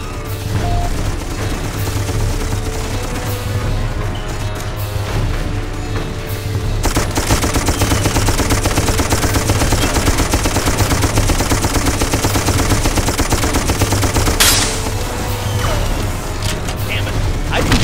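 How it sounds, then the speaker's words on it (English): Sustained machine gun cover fire in the war video game Darkest Of Days, a dense continuous rattle of rapid shots running the whole stretch over a low rumbling battle bed, with speech mixed in. "Get your ass on that gun and provide cover fire."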